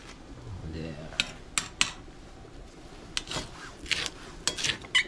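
Knife slicing through an onion on a cutting board in a home kitchen, giving several sharp, separate chopping taps spread across the clip, with a faint voice and low background noise underneath.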